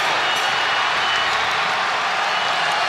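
A boxing crowd in Chicago roars after the 2015 Fonfara vs Cleverly fight, a dense, steady wall of cheering and applause that holds loud and unbroken throughout.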